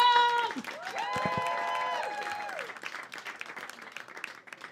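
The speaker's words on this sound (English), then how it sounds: "Keep that applause going for your next act" Applause and cheering from a comedy club audience rise around a brief musical sting, then thin into scattered clapping that fades near the end.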